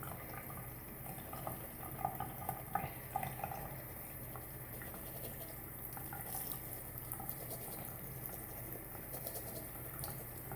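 A makeup brush is scrubbed with soap and water on a Scrabshell silicone brush cleaner, giving soft wet squishing and pattering close by at low volume, with small irregular bursts and no speech.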